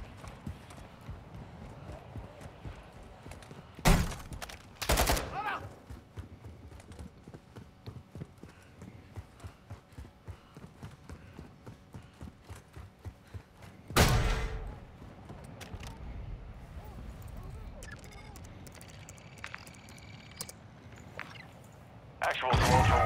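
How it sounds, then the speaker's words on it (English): Gunfire in the military shooter DMZ: a few loud, sharp bursts of shots stand out against steady clip-clop-like footsteps and background noise, with radio-style talk running throughout. "You are taking effective fire."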